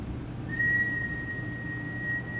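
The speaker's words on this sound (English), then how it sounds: "now I'm just going to whistle and you'll see a spike around here." One steady whistled note is held for about two seconds, clear and fairly faint over a low background hum.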